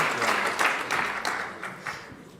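Audience applause greets a trainer at a morning round-table conference, a steady, close wash of many hands clapping that fades slightly toward the end.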